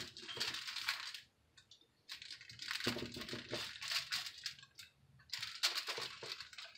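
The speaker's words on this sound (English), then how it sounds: "I'm trying to cut this like that." A bacon, sausage, ham, cheese and egg breakfast pizza is sliced up close, with bursts of crunchy, crackling crust-cutting noise separated by brief pauses, no voices.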